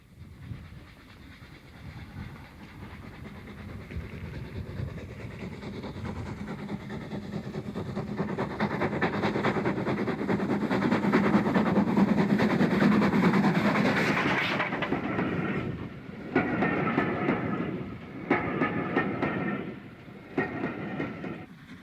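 A steam train rumbles past on the rails, growing louder with rhythmic chuffing and clattering wheels, then fading into hissing steam and distant clanks.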